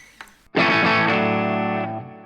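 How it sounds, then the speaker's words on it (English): Electric guitar played through a distortion pedal with the gain turned down: a soft pick noise, then a single sustained distorted chord ringing for about a second and a half before decaying. "it's a distortion, so I reduce the gain"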